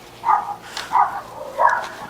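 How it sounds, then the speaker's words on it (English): Dogs barking in a backyard garden, three sharp close barks spaced about half a second apart, loud and clear with no talk. "I may have to voice over this because these dogs are crazy."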